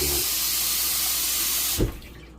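Running tap water pours steadily over a raw beef tongue being rinsed clean in a kitchen sink, a continuous close splash that stops near the end with a brief thump.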